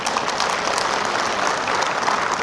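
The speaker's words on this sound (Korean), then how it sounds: "박수를 치실 거면 크게 쳐주시죠." A large audience at a book concert in Gwangju applauds loudly and steadily, dense clapping filling the whole stretch without a break.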